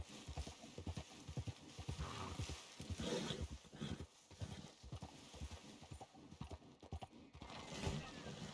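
Clip-clopping hooves of a horse in Red Dead Redemption 2, steady rhythmic footfalls on a descending slope around Valentine, with a brief whinny and game ambience underneath.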